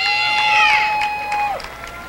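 A large outdoor crowd at the People's Climate March in Seattle, with a loud sustained whistle or high-pitched shout that bends down at the end over a dense crowd murmur.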